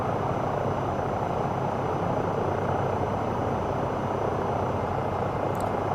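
An EC-135 helicopter in Microsoft Flight Simulator 2024 gives a constant, even rotor and turbine drone that holds steady throughout, with no talking over it.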